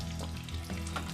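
Spices sizzling in hot oil for a tadka tempering for dal, a steady close crackling fry with low hum underneath, no talk.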